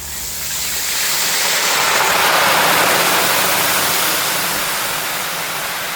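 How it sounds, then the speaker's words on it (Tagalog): Water poured into a pan of frying lechon kawali pork belly sets off a loud, steady roaring sizzle that swells and holds for several seconds, with no talking. "Lagyan ng tubig para crispy talaga siya."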